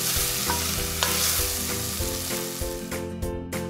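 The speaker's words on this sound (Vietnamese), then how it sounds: "Chế bột vào, tạo ra tiếng xèo xèo vui tay." Bánh xèo batter with shrimp, squid and pork frying in hot oil, a loud continuous sizzle with clinks of stirring and scraping throughout, no voices.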